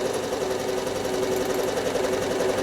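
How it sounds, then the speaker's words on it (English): A sewing machine stitches a heart motif onto a rail fence quilt, running steadily and loudly close by with a continuous rapid mechanical whir and no pauses. "I'm going to come up through the middle and stitch the first heart"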